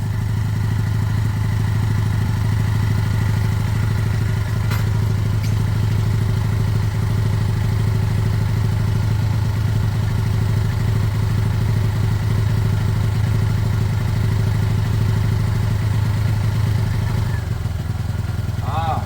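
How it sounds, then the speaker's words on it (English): A Lexmoto Michigan 125cc motorcycle engine runs steadily after starting, a loud, even mid-pitched drone with light mechanical clatter that holds throughout, briefly changing near the end. "I also need to keep starting it over the next week, making sure that it just starts like this."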